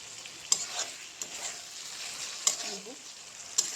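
Tomatoes cooking down in a pan until their water dries off, a soft steady sizzle with occasional sharp scraping taps of a spoon against the pan, close and without talk.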